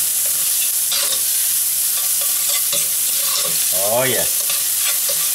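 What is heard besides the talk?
shallot and garlic sizzling in pancetta fat and olive oil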